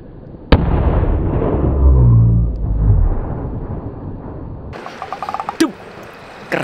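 A firecracker explodes inside a large plastic water jug at night: a sharp blast erupts, followed by a rumbling, hollow roar that fades, then rattling clatter and scattered pops.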